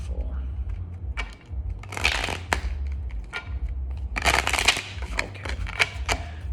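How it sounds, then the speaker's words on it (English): Tarot cards are shuffled in bursts of crisp riffling and slapping, close by, with pauses between and a low background hum. "Give this one last shuffle."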